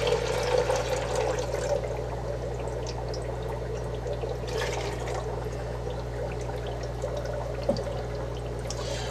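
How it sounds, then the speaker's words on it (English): Tank water poured into a brine shrimp hatching container, a steady close gurgling splash that runs continuously for several seconds over a low hum, with no talk. "we're going to go ahead and top that one off with the rest of our tank water"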